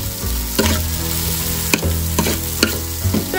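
Tempering for curd sambar sizzles in hot oil, a steady crackling fry with several sharp stirring clinks and scrapes spaced through it, close and fairly loud with no voices.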